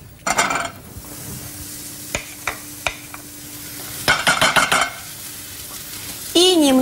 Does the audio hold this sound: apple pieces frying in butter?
yes